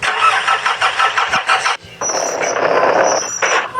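A jeep engine cranks with a rapid rhythmic churn, stutters and cuts out briefly, then catches and settles into a loud, steady run close by.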